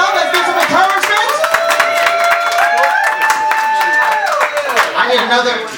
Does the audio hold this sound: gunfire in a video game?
no